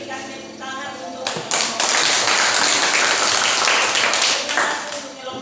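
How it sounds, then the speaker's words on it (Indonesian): A classroom group claps during a mathematics teaching exam. A voice speaks first, then a burst of quick, dense clapping rises sharply, holds for several seconds and trails off near the end. "Berikan tepuk tangan untuk"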